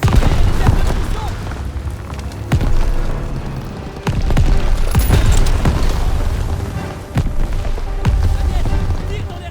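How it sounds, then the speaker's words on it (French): Heavy booms and blasts from an ammunition depot blowing up in the World War II shooter Call of Duty WWII, several deep impacts landing over a continuous rumbling battle din, with voices faintly mixed in. "Fais sauter les réserves de munitions."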